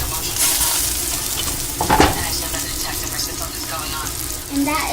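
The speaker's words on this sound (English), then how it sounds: "My meat's still boiling." Meat cooks in a pot for stewed pork with rice, a steady bubbling sizzle with metallic stirring and a brief clatter of utensils, close, under occasional talk.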